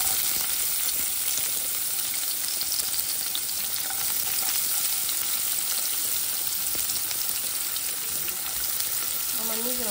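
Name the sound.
onions frying in oil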